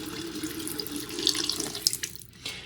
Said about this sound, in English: So I'm going to turn on the hot water.